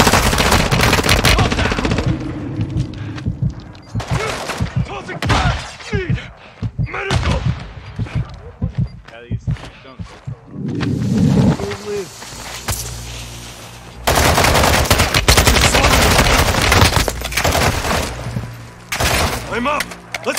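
Call of Duty Modern Warfare II gunfire, loud sustained automatic bursts and booming shots filling the scene, broken by brief lulls, with voices shouting in game.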